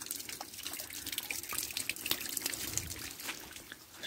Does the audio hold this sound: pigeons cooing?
no